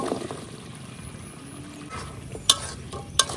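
In a pan, jackfruit seeds are fried together with cumin, turmeric and chili powder, giving a soft, close sizzle under light stirring, with two sharp clinks of a utensil near the end and no talking.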